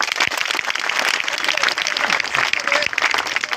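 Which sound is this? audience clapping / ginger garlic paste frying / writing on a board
audience clapping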